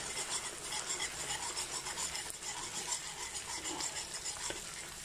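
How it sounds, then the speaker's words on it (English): An egg mixture is whisked briskly in a bowl in a home kitchen, a fast, continuous rhythmic scraping and rasping up close that runs steadily throughout without any voices. "And quickly whisk it."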